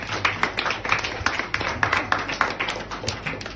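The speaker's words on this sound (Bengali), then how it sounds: "জোরে হাততালি" Rhythmic clapping from an audience at a Hindi and Bengali song event as a guest comes forward, a fairly steady beat of sharp claps, a little distant and slightly uneven, running throughout.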